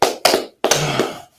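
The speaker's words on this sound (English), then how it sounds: "Let's clap it up," Hands clapping in a short burst, two dense rounds of applause separated by a brief pause, close and fairly loud, with no talking over it.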